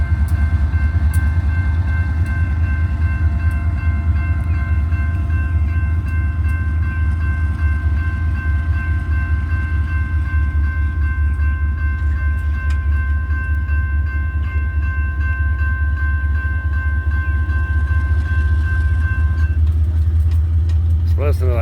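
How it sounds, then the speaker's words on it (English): Heavy freight train pushed by two remote-controlled DPU locomotives, a loud, deep, continuous diesel drone with steady tonal whine from the engines passing close by, someone speaking over it. "Listen to that power. It's the hard-working DPUs right there."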